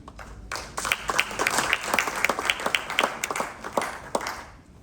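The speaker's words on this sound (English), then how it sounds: "We applaud him, we applaud him." An audience applauds at a memorial gathering in Uganda, a steady crowd of hand claps at moderate loudness, continuous for several seconds with no speech over it.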